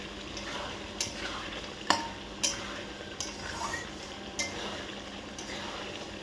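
Country chicken braising in a pan with a little water, giving a low bubbling background and occasional sharp clinks and scrapes of a spoon stirring against the metal, close and quiet.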